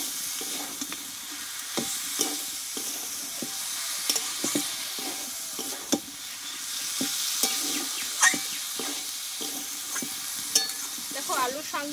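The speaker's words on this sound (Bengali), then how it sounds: "দিয়ে মশলার সঙ্গে একটু খানিকক্ষণ আমি নাড়াচাড়া করে নেবো" Greens and pumpkin stems being stirred with spices in a hot pan, steady sizzling frying under repeated scraping and clacking strokes of the spoon, close and fairly loud throughout, with no talking.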